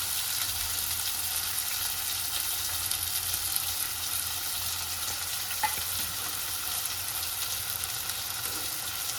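Ginger garlic paste and chopped tomato frying in a pan, an even continuous sizzle close up, with a soft stirring scrape near the middle and no voices.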